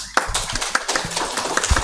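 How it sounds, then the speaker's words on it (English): Seminar audience applauding a visiting professor, a short burst of scattered, fairly close claps with a murmur of voices underneath. "Please give him a round of applause."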